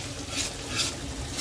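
Spices being stirred as they fry in a pan for a bottle gourd kofta curry: a steady close sizzle with scraping stir strokes, fairly quiet and continuous, no voices.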